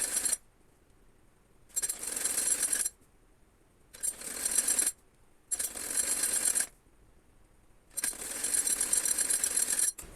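A sewing machine stitches a designer baby frock in five separate bursts of fast, rattling needle action, each a second or so long, with near silence between them and no speech.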